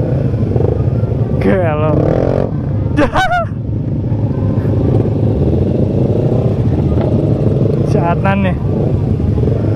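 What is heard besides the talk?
Yamaha Jupiter MX 135 motorcycle engine while riding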